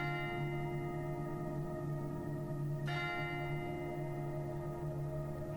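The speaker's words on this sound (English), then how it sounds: "The bell invites me." A single tolling bell sounding a knell is struck once midway, its ringing tone sustained and slowly fading over a steady low hum.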